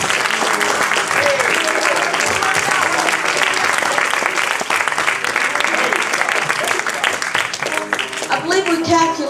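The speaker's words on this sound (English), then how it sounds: "give the Lord a hand clap of praise." A church congregation breaks into loud, sustained hand clapping of praise, with cheering voices mixed in and someone speaking toward the end.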